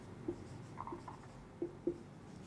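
Pen writing on paper during an accounting worked example, heard as faint scratches and a few soft taps, quiet and close with no talk.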